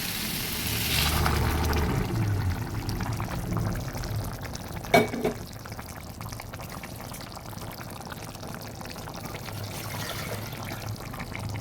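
Hot water left from boiling chickpeas being poured into a pot: a brief rushing pour near the start, then a low steady bubbling rumble with one sharp knock in the middle, close by and without voices.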